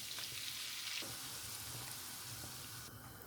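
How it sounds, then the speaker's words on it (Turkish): Butter, oil and flour sizzle quietly in a pan, a steady soft frying hiss with faint stirring, heard alone without voices. "100 gram tereyağımı tavanın içerisine aldım ve eritiyorum"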